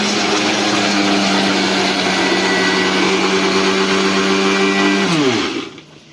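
A mixer grinder runs loud and close, grinding hot freshly fried food during festival cooking, holding a steady motor whine before spinning down and stopping near the end.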